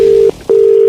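Two long steady dial tones sound in quick succession on a phone line, loud and close, separated by a brief gap as a mobile number is dialed.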